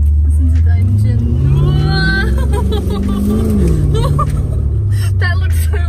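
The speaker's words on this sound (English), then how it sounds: "Listen to the engine." A V8 car engine runs with a steady, deep rumble heard from inside the vehicle, loud and continuous, while people chat over it.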